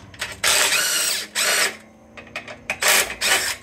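A ratchet loosens long bolts on a Honda CT70 trail bike engine during disassembly, loud close bursts of rapid clicking, several strokes with short pauses between them.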